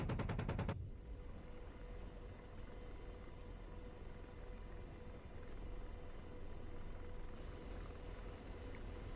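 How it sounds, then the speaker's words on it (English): AH-64D Apache helicopter cannon fire in the DCS flight simulator: a short rapid burst of loud shots at the very start, followed by a constant rotor and engine drone. "These are my first shots from the pilot seat as well"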